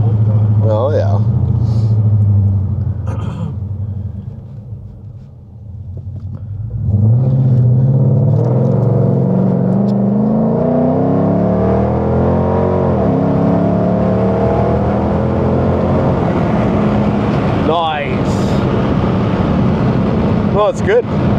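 A car engine fitted with long tube headers idles with a low rumble, then revs up in a rising, rasping climb that holds loud and near, with people talking over it.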